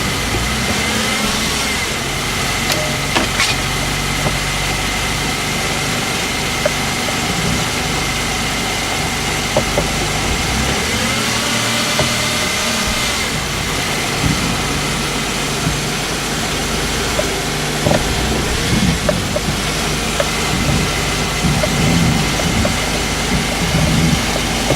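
1992 Ford Explorer engine running steadily after being cranked, a continuous mid-pitched hum with occasional small rises in revs and a few sharp clicks over the drone.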